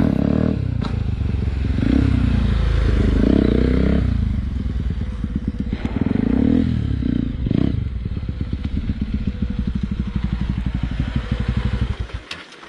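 A Kawasaki ZX10R superbike modified for off-road use with dirt bike parts revs hard on a bridge during a wheelie attempt, its engine climbing and falling in pitch close by, with some clattering knocks mixed in.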